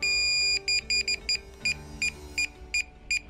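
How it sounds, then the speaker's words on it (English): A DJI Mavic Air 2 drone remote controller gives a steady electronic tone, then a series of short, high beeps repeating at a regular pace, clear and close. "The remote controller will start to beep after 2 seconds."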